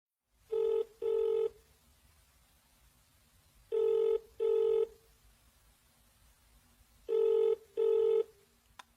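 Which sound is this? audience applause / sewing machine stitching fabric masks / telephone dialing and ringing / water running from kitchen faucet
telephone dialing and ringing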